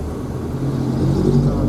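A car drives slowly along a narrow residential lane, its engine a steady close rumble that swells slightly as it moves ahead.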